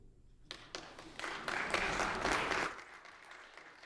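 Applause breaks out in a parliamentary House chamber, a burst of many hands clapping that builds quickly, holds dense and fairly loud for about two seconds, then thins out and fades.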